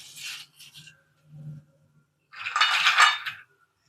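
Crisp dry rustling and scraping of homemade biscuits being handled in a kitchen, a few short close bursts followed by a longer, louder rattle, with no talk.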